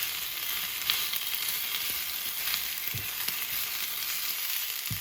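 Spinach sautéing in a pan, a steady broadband sizzle running alone throughout with a few faint scraping clicks.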